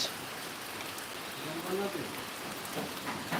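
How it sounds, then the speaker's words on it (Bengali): Steady rain falls in a broad, even hiss of drops striking surfaces close by, holding a constant level throughout with only faint, brief disturbances in the background. "বৃষ্টি হচ্ছে খুব ভালো লাগছে"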